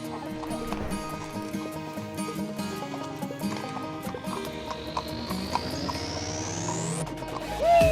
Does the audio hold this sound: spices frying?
no